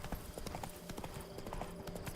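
Roach, Geralt's horse in The Witcher 3, galloping with steady rapid hoofbeats close by for about two seconds, layered over a continuous game soundscape.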